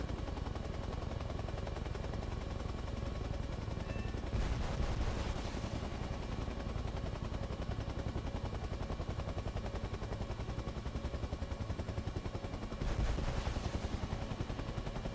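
Rocket fire and explosions from an AH-1F attack helicopter in a VR flight sim play as dense, continuous rumbling with two sharp, louder bursts standing out.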